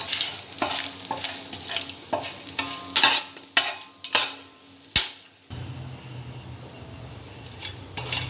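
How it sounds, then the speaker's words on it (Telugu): A two-inch piece of cinnamon, five or six cloves and a bay leaf fry in hot oil for chicken biryani, sizzling under repeated spoon stirs and sharp clanks against the pan, then settling into a steadier fry. "2 ఇంచెస్ చెక్క, ఒక 5 నుంచి 6 లవంగాలు, బిర్యానీ ఆకు వేసి వేపుకోవాలి."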